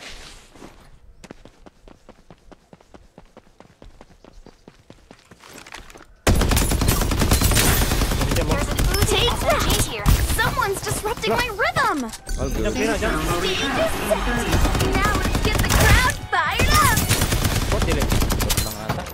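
Rapid automatic gunfire from the shooter game Farlight 84 rattles in dense, loud bursts after quieter footsteps and light clicks at the start. Excited voices and game callouts sound over the shooting.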